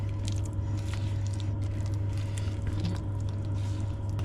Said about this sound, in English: so stir it until it's mixed well, just gently